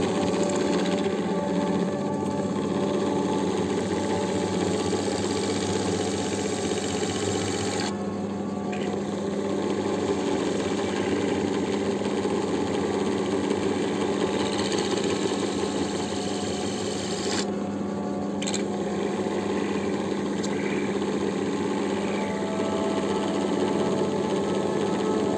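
A stone-working machine grinds and polishes a cabochon with a steady, loud motor whir and a rough grinding hiss that runs without a break, broken only by brief dips in the higher tones.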